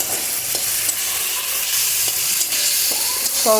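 Chopped tomatoes sautéed with sugar in a pan for a sour chuno fish curry give a steady, close sizzle, with scraping stirs of the spoon and no talk.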